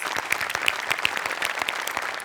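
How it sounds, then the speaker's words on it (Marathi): Dense, steady applause fills the room from a studio audience on the Marathi comedy show Maharashtrachi Hasya Jatra, many hands clapping continuously at an even level throughout. "तुझ्यासाठी विशेष टाळ्या"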